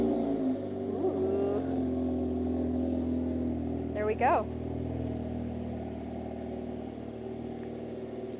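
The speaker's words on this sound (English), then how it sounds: "Now to remote start, we're gonna press lock, and then press and hold the remote start button." A 2025 Hyundai Elantra N engine fires up by remote start with a brief rev, then settles into a steady low idle growl, with someone speaking briefly.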